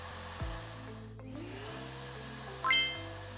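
A shop vacuum feeds air to Airsled hover blades under furniture, giving a steady close blowing drone with a rising whine, a brief thud near the start and a sharper bump later, and no voices.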